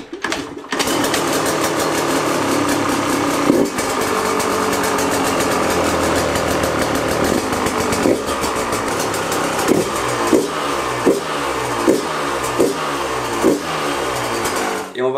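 A new motorcycle in a garage starts up, then runs loud and close, its steady engine roar broken by a series of sharp revs toward the end, with no talking.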